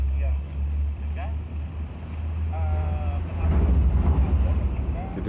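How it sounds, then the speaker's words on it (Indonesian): A truck crosses the Kaliketek bridge in Bojonegoro, heard from underneath at a roadside coffee stall as a deep, continuous low rumble and vibration that swells louder toward the end, with faint voices and small sounds around it. "Itu suara truk itu guys,"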